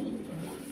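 A brief, close pigeon coo: a soft, low, rolling murmur from a high-quality pigeon that fills the short moment at steady volume with no talk.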